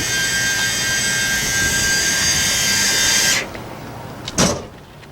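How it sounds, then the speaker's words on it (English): A steady mechanical whine and hum runs for a few seconds as the electric engine access gate of a 2019 Entegra Aspire motorhome opens, then cuts off, followed by a brief clunk of the gate moving. "you open this electric gate here, you have full access to your engine"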